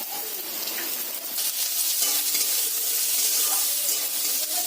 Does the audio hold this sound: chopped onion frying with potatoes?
yes